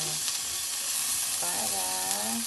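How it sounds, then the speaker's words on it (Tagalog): Onions sizzle in a pan with chicken breast, a constant close frying hiss with faint stirring, and a brief voice murmuring underneath partway through. "lagyan naman natin ng sibuyas"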